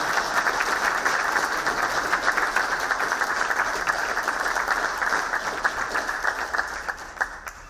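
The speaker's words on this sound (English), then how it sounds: "Pause for applause." Audience applause at a retirement event keeps up a steady, full wash of clapping before it thins out toward the end.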